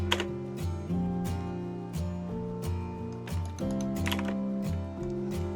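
Keyboard typing while entering AutoCAD commands and values for drawing circles, a run of quick, close, irregular key clicks layered over steady tonal background music.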